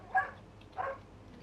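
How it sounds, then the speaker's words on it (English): A dog whines and barks from another room during a Farming Simulator 25 session, giving two short yips about half a second apart, moderately loud and heard alone. "My dog is complaining."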